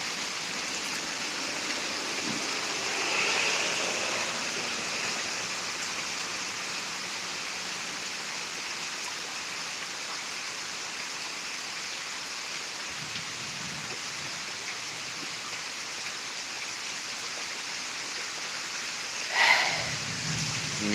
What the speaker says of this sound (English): It's still raining. Rain's picking up again.